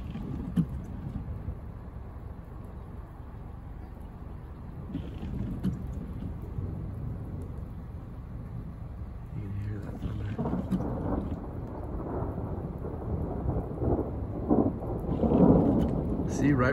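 A heavy thunderstorm rolls through Big Bear, California, near an airport. Steady pounding rain and low rumbling thunder build louder toward the end, with occasional faint voices.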